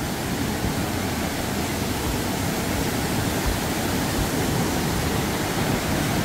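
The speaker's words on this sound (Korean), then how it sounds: "저 바위 사이에서 내려와 가지고 여기 폭포를 이루었어요" Mountain waterfall in Bansagol Valley on Jirisan, water spilling down between rocks, producing a loud, steady broadband roar that fills the whole stretch without a break.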